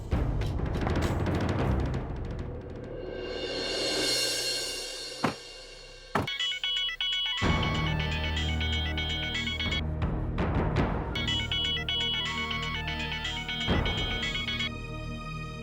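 A phone ringtone plays in a Telugu TV drama scene, a bright melodic electronic pattern repeating for most of the span over a dense, steady background, with short breaks between the rings.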